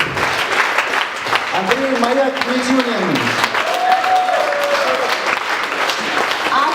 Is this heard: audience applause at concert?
yes